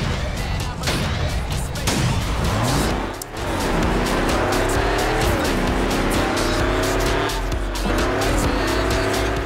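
A car in the Fast and Furious Showdown video game races at high speed, engine revving loudly through rising gear shifts with tire squeals and skids, close and continuous; a voice speaks over it.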